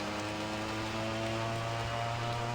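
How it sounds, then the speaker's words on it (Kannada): Heavy rain falls steadily along a roadside during a motorcycle ride, a dense, even hiss with a low constant hum underneath, sustained and unbroken throughout. "heavy rain"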